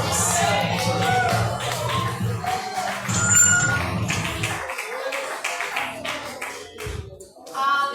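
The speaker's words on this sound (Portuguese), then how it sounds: "E as palmas glorificam o nome do Senhor Jesus." Church worshippers clap along during a service, rhythmic hand claps mixed with singing voices and music, loud and close, thinning briefly near the middle before picking back up.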